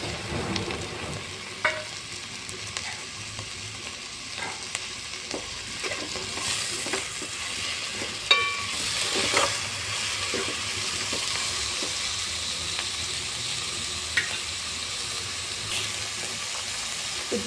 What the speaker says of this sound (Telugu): ఒక 1-2 మినిట్స్ పచ్చివాసన పోయేంత వరకు ఫ్రై చేసుకోండి